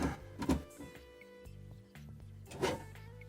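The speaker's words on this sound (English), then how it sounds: "I'm just taking off the screws." Screws being backed out of a ReadyNAS 1100 case during a power supply swap, a few faint close metallic scrapes and soft clicks with quiet handling between them.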